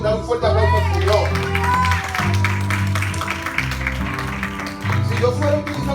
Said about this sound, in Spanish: Dar un fuerte aplauso al Señor